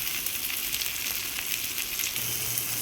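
Tomato and ground spice paste fry in a pan for a chicken curry with curry leaves, giving a steady, close sizzle that runs unbroken with no talking.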